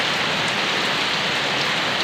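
Heavy rain pours down steadily, a dense even hiss of drops striking surfaces, close and unbroken with no voices.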